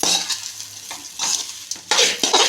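Egg tomato pulao is stirred in a hot pan, giving close, loud bursts of scraping and sizzling that come in uneven waves and pauses.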